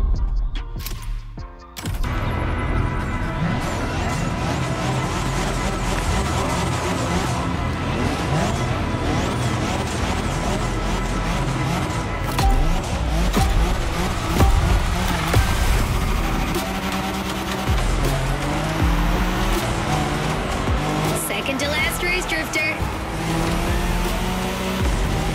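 Nissan R34 drifting in The Crew Motorfest racing game, with a steady loud engine drone, revving and tire squeal running continuously throughout.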